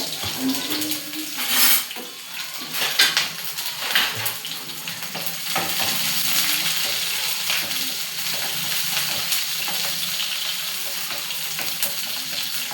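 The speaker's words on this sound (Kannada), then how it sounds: "ಸ್ವಲ್ಪ ಆಯಿಲ್ ಹಾಕ್ಕೊಂಡಿದ್ದೀನಿ. ಇಲ್ಲೊಂದು ಈರುಳ್ಳಿ ಕಟ್ ಮಾಡಿ ಇಟ್ಕೊಂಡಿದ್ದೀನಿ. ಈರುಳ್ಳಿ ಹಾಕಿದೆ." Chopped onion frying in oil in a pan while egg masala is being cooked, giving a steady broadband sizzle with brief stirring clatters early on, close and fairly loud, no talking.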